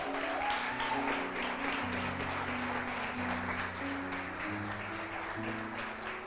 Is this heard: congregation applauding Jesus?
yes